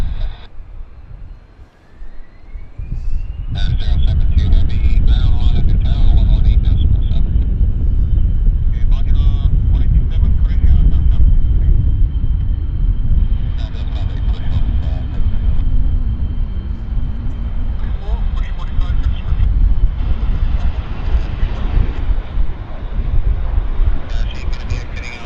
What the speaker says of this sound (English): And the CRJ's rolling.